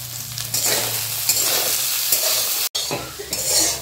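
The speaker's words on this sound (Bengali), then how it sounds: "সয়াবিনটা ভাজা হয়ে গেছে, এখন নামিয়ে নেব।" Boiled soybean chunks fry in a wok over low flame with salt and turmeric, giving a loud, continuous sizzle with a spatula stirring and scraping close by and one short break.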